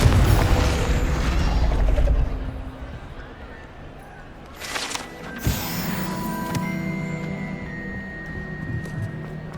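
Bombarda and Confringo spells exploding in Hogwarts Legacy, a loud rumbling blast up front that fades, then a sharp crash and clattering debris with ringing magical tones trailing off, mid-distance.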